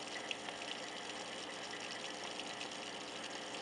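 An aquarium pump diffusing CO2 into a planted tank gives a steady, close bubbling hiss of churning water that holds even throughout, with no talking.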